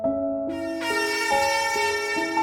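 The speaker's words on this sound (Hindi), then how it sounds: "तभी उन्हें पीछे से एक ट्रक की तेज़ हॉर्न सुनाई देती" A loud, sustained truck air horn blares continuously for a couple of seconds, its pitch stepping slightly as it holds, close and piercing.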